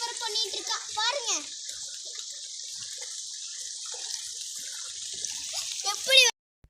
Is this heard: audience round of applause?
no